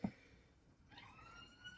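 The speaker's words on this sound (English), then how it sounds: "I apologise if you can hear that siren." A siren passes outside on a street that climbs a hill, heard faint and distant through a room with only a low, wavering tone and no speech.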